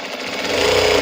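A sewing machine runs in a fast, even rattling buzz as it stitches cloth made from old clothes, steady and close for about a second with no talking.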